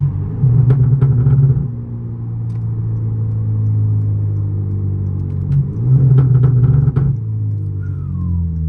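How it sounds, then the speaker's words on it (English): Genesis Coupe turbocharged engine rumbling close by as it revs in two strong bursts with a steady drone between them, followed near the end by a faint rising whistle of turbo spool. "just listening to that turbo spool, guys, like that turbo spool just sounds so good"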